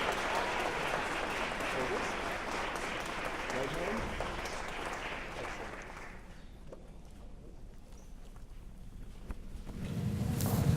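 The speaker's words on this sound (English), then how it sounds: "Let's give them another round of applause to Mr. Granville Odom and the Calhoun Chorale." Audience applause for a chorale at a Martin Luther King Jr. memorial program, a broad, fairly distant wash of clapping lasting about six seconds before fading into room murmur, with noise rising again at the end.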